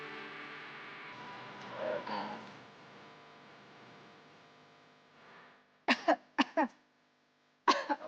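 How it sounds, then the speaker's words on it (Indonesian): Three or four sharp coughs in close succession near the end, following a stretch of muffled background sound. "Apaan sih batuk-batuk mulu dari tadi?"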